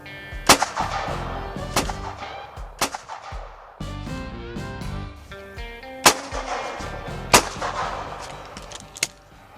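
Shotgun doubles fired at clay targets in a competitive shoot, with sharp reports spaced a second or so apart, some in quick pairs, over a busy background.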